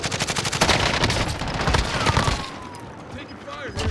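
Rapid, dense gunfire rattles through a first-person shooter video game, loud bursts packed close together for most of the moment and then thinning out, with talk over the shooting.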